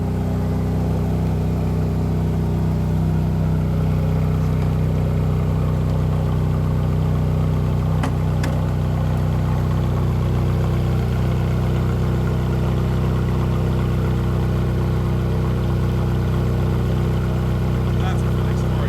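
Ferrari 458 Speciale engine idling steadily with the engine compartment open, a constant low rumble filling the whole stretch with a few faint clicks and people talking quietly over it.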